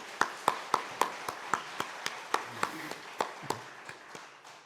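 Congregation applauding in a Korean church service, heard as a steady, evenly spaced run of claps in unison that starts firm and fades away over a few seconds, with no talking.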